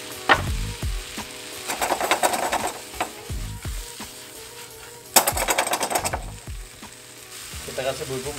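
Shrimp and petai beans fry in a pan for a home-style oyster-sauce dish, a steady sizzle broken by louder bursts of bubbling and sharp clinks and scrapes of a spatula stirring against the pan.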